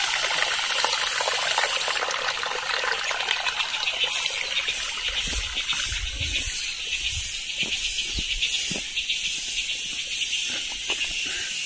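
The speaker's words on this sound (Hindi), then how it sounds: "आप आवाज सुन सकते हो पानी की।" Rain-swollen water gushing and splashing steadily in a misty, rainy forest near Narkanda, Himachal Pradesh, a continuous broadband rush close by with no voices.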